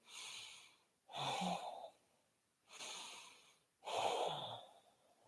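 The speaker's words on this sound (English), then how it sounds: "Deep breaths." Deep breathing in a yoga class, four slow, close and fairly quiet breaths: two soft airy inhales alternating with two fuller, heavier exhales, with no talk.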